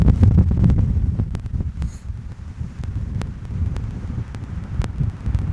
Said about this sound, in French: il y a toujours autant de vent.